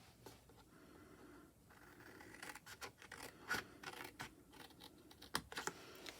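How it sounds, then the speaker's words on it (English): Scissors cut through card for a homemade Christmas treat box, producing a series of close, irregular snips and scratchy rustles that grow busier toward the end, with no talking. "I'm going to do a bit of cutting"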